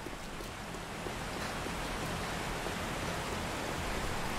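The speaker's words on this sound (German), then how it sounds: "ich finde die Atmo aber jetzt gerade beim Regen wieder super geil" Rain in the survival video game 7 Days to Die, a steady, even hiss of falling water with no distinct drops, continuous and moderately soft throughout.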